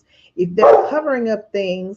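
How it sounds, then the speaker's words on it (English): A dog barks a few times, close and fairly loud, with a person talking over the barks. "That's the dog, y'all."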